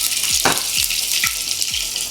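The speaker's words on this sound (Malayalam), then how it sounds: "ഈ ചട്ടി ചൂടായി വന്നപ്പോഴേക്കും നമ്മൾ അതിൽ ഇഞ്ചി വെളുത്തുള്ളി പേസ്റ്റ് ഇല്ലേ?" Ginger garlic paste fries in a hot pan, giving a loud, steady sizzle with a few sharp spatters and pops close by.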